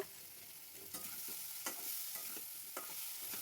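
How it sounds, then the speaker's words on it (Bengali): Onion paste fries in a pan while being stirred, a soft continuous sizzle broken by several scraping strokes of a spoon at an irregular pace, fairly quiet and close. "পেঁয়াজটাকে কিছুক্ষণ ভেজে নেব।"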